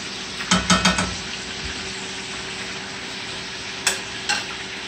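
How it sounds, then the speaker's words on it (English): Patties fry in a pan with a steady, close sizzle, broken by a few quick clinks and scrapes of a utensil against the pan. "And then she's frying them."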